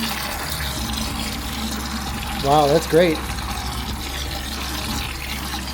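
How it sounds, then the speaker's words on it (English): Water flows steadily from a PVC pipe into a bucket as a constant broadband rush, and a person speaks briefly over it partway through. "I hear water running."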